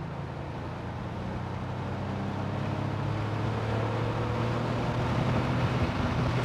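An air-cooled Porsche 911 3.2L Carrera engine at full throttle in third gear, its droning note rising steadily from low revs over several seconds, with wind noise and no talk.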